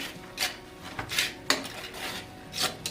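Whole garam masala being stirred with a spoon into drumstick vegetable curry in a pan, giving a few separate scraping, rasping strokes close by, without talk.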